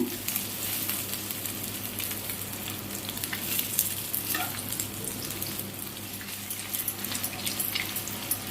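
Bhetki fish pieces frying on a low flame, giving a soft, even crackling sizzle that runs unbroken and fairly faint, with no talking.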